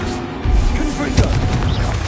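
A Confringo fire spell blast in Hogwarts Legacy hits with a sudden loud boom about halfway through a noisy battle, followed by a second thump, with possible game voices mixed in.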